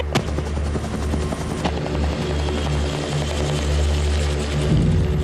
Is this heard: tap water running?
no